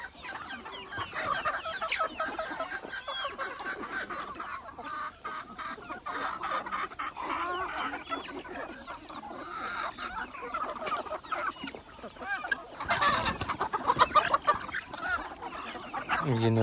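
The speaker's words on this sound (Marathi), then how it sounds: "बघू शकता तुम्ही कोंबड्याची क्वालिटी कशी।" Free-range desi roosters and hens cluck and call across a half-acre farm planted with trees, with guinea fowl also kept there; repeated clucks come near and far over a busy outdoor background.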